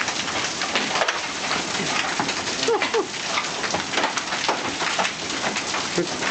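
Hail pelts a car during a storm near Oklahoma City, a dense, continuous drumming and clatter of stones striking the body with no let-up in its heavy patter.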